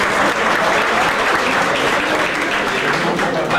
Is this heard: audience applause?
yes